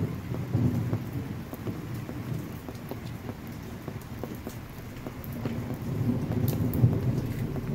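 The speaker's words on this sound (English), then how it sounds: "standing in the pouring rain" Steady pouring rain outdoors at a firefighter funeral, with low rumbles of thunder rolling underneath and scattered drops spattering nearby throughout; no voices.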